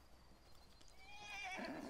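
A horse in the western video game Don't Die In The West gives a whinny that rises out of quiet game ambience near the end of the clip, faint at first and then clearer.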